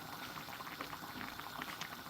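Water pouring into a cooking pot on the way to making okra soup, a steady bubbling, splashing flow heard close up and faint, with no talking.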